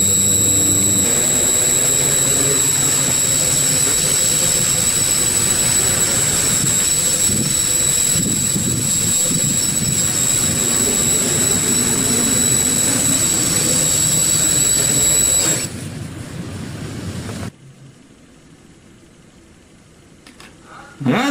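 A drone's motors spin up into a loud, steady jet-like whine and roar that holds for about fifteen seconds, then drops away sharply into near silence, with a brief burst returning at the very end.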